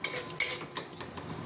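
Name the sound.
stirring and sautéing masala paste in a pan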